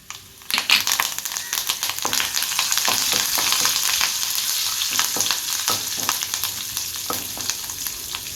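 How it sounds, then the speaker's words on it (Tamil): Dried red chilies and curry leaves fry in oil in a pan, a close, steady sizzle with crackling pops and occasional stirring scrapes, and no voices. "நல்லா வதக்கி விட்டுப்போம் வத்தல் நல்லா செவந்து வரட்டு இப்போ செவந்துட்டு இப்போ கருவேப்பிலை கொஞ்சம் சேர்த்துக்கலாம்"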